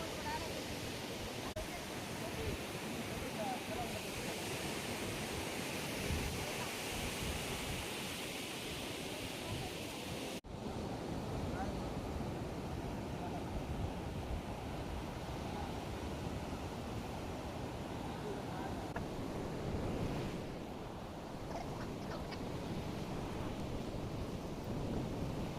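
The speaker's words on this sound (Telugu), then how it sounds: "సముద్రం దగ్గరైతే గాలి అయితే బాగా ఉండింది." Wind and waves at the sea shore, a broad, steady roar of surf and rushing air that runs continuously at moderate distance, with faint voices under it.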